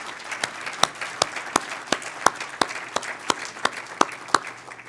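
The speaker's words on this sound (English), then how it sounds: "give them a big round of applause for the work that they do to support the United Way" An audience at a United Way annual meeting applauds the board directors, a sustained bed of crowd clapping punctuated by loud, sharp claps close by at a fairly regular beat.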